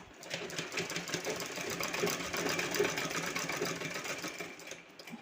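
A sewing machine stitches a small piece of fabric into a cloth garment. Its steady, rapid mechanical chatter is fairly quiet and close, with no talking.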